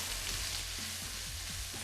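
Tuna and olive oil stirred in a hot frying pan, with a constant close sizzle and faint scraping strokes of the stirring repeating every few tenths of a second.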